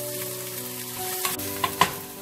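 Onions fry in oil until golden brown, giving a steady sizzle with a low steady hum underneath and a couple of brief clinks of a utensil near the end.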